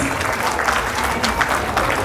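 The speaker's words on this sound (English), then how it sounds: "Let's give a round of applause to the Acorns." Audience clapping at a school's 25-year anniversary celebration, a full, continuous round of applause from a large crowd, loud and even throughout the short span.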